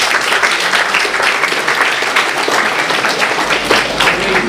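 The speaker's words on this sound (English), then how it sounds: "Please don't clap, because you just encourage me." An audience bursts into sustained applause, dense many-handed clapping that stays loud and even throughout, with a faint voice briefly audible near the end.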